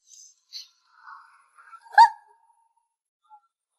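A person mimics a small puppy's bark with a few short, high, soft yips spaced apart, the loudest near the middle, surrounded by silence.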